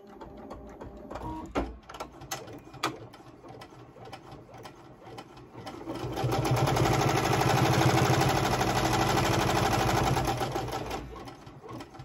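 An embroidery machine stitches a Thanksgiving gnome design onto a Dollar Tree oven mitt. A few mechanical clicks and taps come first, then a steady, close, rapid needle-driven whirring hum settles in and continues with no talking.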